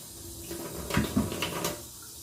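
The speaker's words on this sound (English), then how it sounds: "I rinse them real good. Rinse all the stuff off of them." Tap water runs steadily as turkey wings are rinsed under it, with a soft continuous splash that rises briefly in the middle, close and moderately loud with no talking.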